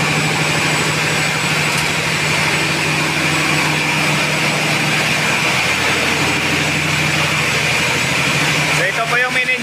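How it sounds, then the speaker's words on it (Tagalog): A ship's main engine runs loud and steady in its engine room, a continuous dense drone with constant low hum and high whine throughout, a brief rattling burst near the end. "So ito po yung main engine namin guys."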